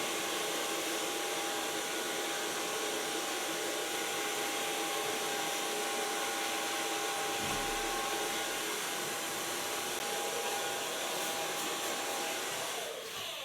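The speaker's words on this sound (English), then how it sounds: "So far blow drying." A hair dryer blows steadily on short pixie-cut hair, a loud continuous whooshing hum with no talking over it.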